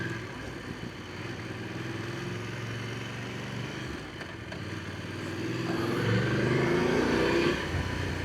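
A Voge DS900X motorcycle engine hums steadily while riding, with wind rush, and the engine note rises and swells louder toward the end as the bike accelerates.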